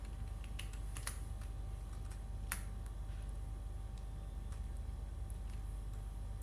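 Java code being typed on a computer keyboard, a steady run of soft key clicks with a few sharper taps, close and alone without talk.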